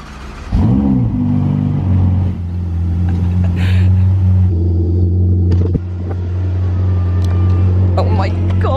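A Ferrari drives in convoy, its engine a loud steady rumble up close, rising briefly as it accelerates, with people talking over it.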